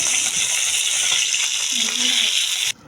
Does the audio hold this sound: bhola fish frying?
yes